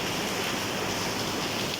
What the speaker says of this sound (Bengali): 3 দিন ধরে আজ বৃষ্টি হচ্ছে বন্ধুরা